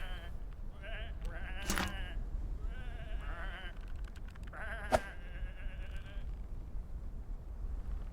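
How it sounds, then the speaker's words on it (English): Sheep in the video game Whateverland bleat several times, wavering calls spaced over a few seconds with a couple of sharp knocks among them, over a steady low hum. "these are just sheep"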